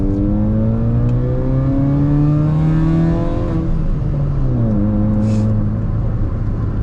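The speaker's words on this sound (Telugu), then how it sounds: "Now the exhaust is on అనమాట." Modified Hyundai i20 with an aftermarket exhaust revving steadily and loudly up close, its engine note climbing, falling back and rising again over several seconds, with light crackles on gear shifts.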